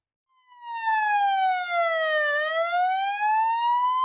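Ambulance siren wailing loud and steady as about three hundred emergency and disaster medics march on foot to the regional council in Lviv, its pitch sliding down then rising again with no voices over it.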